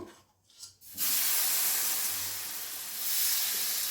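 Batter ladled onto a hot, lightly oiled pan for fusion patishapta bursts into a loud, steady sizzle after a quiet second, the hissing continuing strongly to the end.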